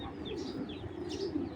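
A Sapchila Napta pigeon coos softly in a repeated low murmur, close by, with faint chirps from other birds in the background and no talk.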